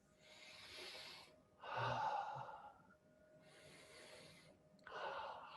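Slow deep breaths come in and out during a leadership seminar, four airy pulses of inhaling and exhaling, close and soft, with the louder breaths alternating with quieter ones.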